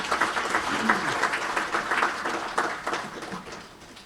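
Warm audience applause at the Central Bank of The Gambia's capital market launch ceremony, continuous clapping with scattered sharper claps that gradually fades toward the end.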